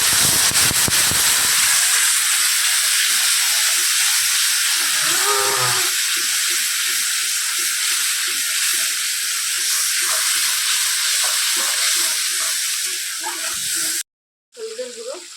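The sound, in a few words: water poured into hot frying spices in pan, sizzling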